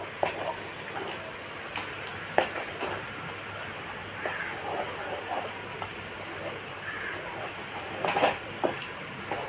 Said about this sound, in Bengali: এক চামচ ঘি দিলাম তো এটা আবার নাড়তে থাকবো